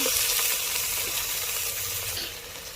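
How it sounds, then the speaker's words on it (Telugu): Curry leaves fry in a pan with a loud, continuous, close sizzling hiss that gradually eases toward the end. "కొంచెం కరివేపాకు. ఇది కొంచెం వేగాలి, మెత్తపడాలి."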